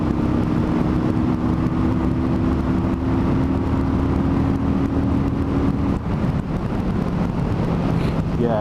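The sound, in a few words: Kawasaki Vulcan 900 Custom motorcycle accelerating through gears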